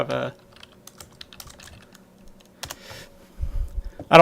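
Keys tapping on a computer keyboard while text is typed into WordPad on a Windows 10 preview build, a quick irregular run of close clicks with pauses, ending in a louder burst of thumps.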